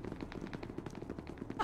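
Scattered gunshots in SCP: Secret Laboratory, quick irregular cracks at moderate distance over a short stretch.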